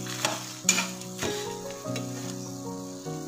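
Ground spice paste for a thirukkai (stingray) fish curry sizzling steadily in a pan as it is lightly roasted, with a few stirring scrapes and clinks over a continuous close frying hiss, no talking.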